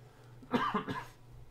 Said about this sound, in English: I've had a cough the last week